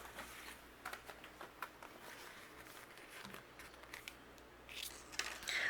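Masking paper panel trimmed with scissors: soft, close snips and faint crinkling in a quiet room, with a brighter papery rustle near the end.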